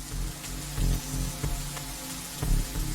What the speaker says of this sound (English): This rain is harmless to our base, but it decreases solar panel efficiency until it stops.